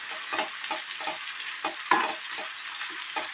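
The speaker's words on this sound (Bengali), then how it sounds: "এবার পেঁয়াজটাকে আমি আস্তে আস্তে একটু রেড করে ফ্রাই করবো" Onion sizzles in a hot pan with a steady close hiss, broken by soft rhythmic scrapes as it is stirred every half second or so, with no talking.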